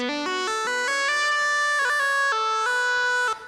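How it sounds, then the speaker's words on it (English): A Waves Element synthesizer with its distortion effect turned up plays a stepping melodic line, bright buzzy tones shifting pitch every few beats, loud and alone before cutting off. "as I crank it up, you can hear that distortion."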